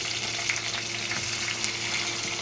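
Tomato goes into onions frying in oil for a fish curry, giving a steady close sizzle and crackle with light stirring, no voices.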